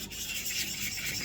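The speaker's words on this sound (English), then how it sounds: "all I'm really doing is just taking my sandpaper, getting it quite wet," Wet sandpaper scrubs across a 3D-printed armour piece in a brief, soft continuous rasp, close and fairly quiet, with no talking.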